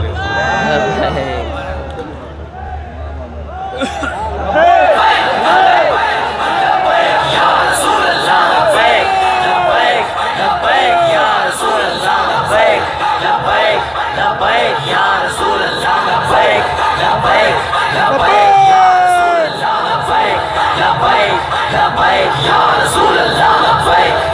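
A large crowd at a religious gathering addressed by a cleric chants slogans in loud, rhythmic bursts of shouting and cheering, sustained and close, after a brief moment of speech at the start.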